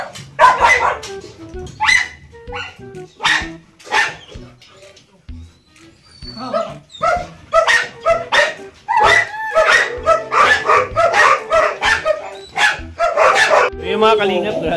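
Several dogs bark and yip in rapid, overlapping bursts, loud and close, with people talking among the barking.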